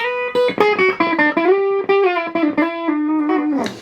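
A heavily distorted electric guitar plays a chunky rock riff of short chords and sustained notes, loud and gritty through a Boss Katana MK II 50-watt amplifier on its Brown channel, an 80s rock tone.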